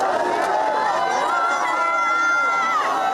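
Outside Lula's home, a crowd of supporters greets him. Many voices blend into a loud, continuous swell of cheering and chanting, with no single voice standing out.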